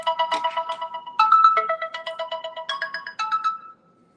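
A phone ringtone chirps in rapid repeated electronic bursts, loud and close, from a bill collector calling late at night, then stops abruptly.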